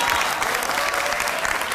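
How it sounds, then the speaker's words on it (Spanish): Dense, continuous applause fills a Chilean TV news studio as the audience claps for Chile's national football team, a steady loud wash of many hands with no single claps standing out. "Aplauso para Chile."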